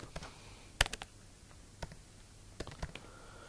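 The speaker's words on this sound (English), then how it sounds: "we can just type, for example, India." Sparse, quiet clicks of computer keys as a country name is typed, a few isolated taps spread over a few seconds with one sharper press near the start, in a quiet room.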